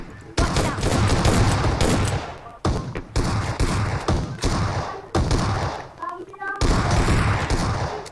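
Bursts of gunfire from the shooter game PUBG Mobile, loud repeated shots and thuds in quick volleys across the whole stretch, with excited players talking over the firing.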